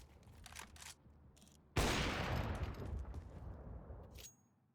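Gunfire during a Counter-Strike esports match on the Overpass map: after faint background noise, one loud burst of spraying fire erupts and rumbles on for a couple of seconds before cutting off, fairly quiet overall.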